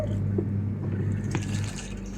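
Water poured and mixed into duck feed made with corn bran on a farm, a soft, fairly faint trickle and slosh lasting about two seconds, with no voices.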